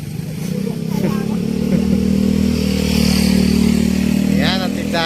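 Motorcycle engine at a roadside gas-selling stall, idling with a steady low rumble and a light rev near the end, under ongoing talk.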